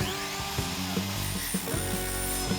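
Saw cutting through copper pipe, a close, harsh whining grind with repeated short surges in pitch as the blade bites and works through the metal.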